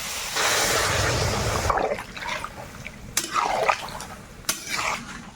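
Water poured into a pan of fried plantain with chillies, a rushing splashy pour for over a second, followed by scattered clinks, scrapes and sloshing in the pan, close by.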